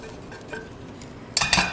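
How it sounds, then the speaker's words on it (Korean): Soy-seasoned bracken fern for bibimbap is stir-fried in a pan over low heat; quiet faint scraping gives way to a short burst of utensil clatter against the pan at the end. "약불로 타지 않게 1분 안쪽으로 볶아줍니다"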